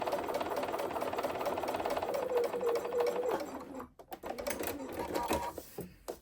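A sewing machine stitches a diagonal seam across fabric for a quilted snowball corner, running steadily and close for several seconds before stopping, followed by light handling clicks and rustles.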